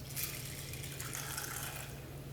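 Three cups of water pour into a pot for popcorn polenta, a steady hissing gush with a low hum beneath it, close and unbroken for a couple of seconds.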